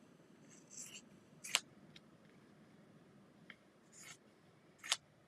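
Scissors snipping through fabric, several crisp cuts in an irregular rhythm, close and fairly quiet, each with a soft rustle before it.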